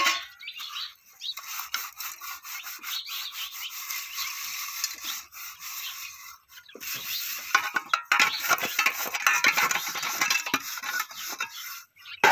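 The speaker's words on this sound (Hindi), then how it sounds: "ये हम बर्तन धोते हैं" Dishes and utensils are scrubbed and rinsed by hand, with soft scraping, clinking and splashing water in an irregular, close stream of small sounds, no voices.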